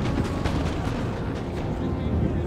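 Artillery and musket volleys roar across a Napoleon Total War battlefield, a dense, continuous rumble of booms and gunfire with a voice faintly under it.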